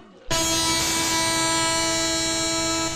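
A train at a station in a movie scene sounds a loud sustained horn blast that cuts in abruptly after a quiet moment and holds steady and close to the end.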